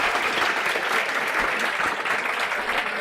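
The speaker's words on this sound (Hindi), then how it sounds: "मैं चाहती हूँ एक बार आप लोग जोरदार तालियां अपने लिए बजा रहे।" Students in a lecture hall break into loud, continuous applause, a dense wash of clapping that stays even and up close throughout the short burst.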